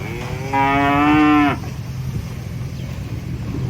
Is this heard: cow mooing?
yes